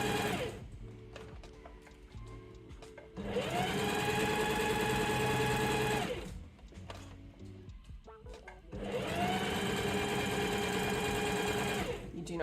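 Sewing machine stitching a French seam, running in two long steady bursts of about three seconds each, with quieter pauses and soft handling sounds between them, while someone talks over it.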